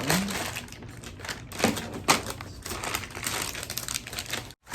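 Scissors cutting through a plastic baby wipe package, close crinkly snips and rustling with a few sharper cuts, continuous and fairly quiet.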